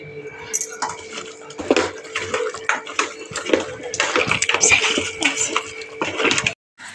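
A spoon mixes curd in a bowl, giving repeated clinks and scrapes against the dish at a steady, uneven pace, close and fairly loud, with one brief silence near the end.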